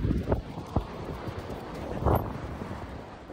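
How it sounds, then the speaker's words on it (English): Wind blowing at a beach buffets the microphone in a steady low roar, with a few stronger gusts and thumps rising and falling, and no voices. "Sorry if it's very windy."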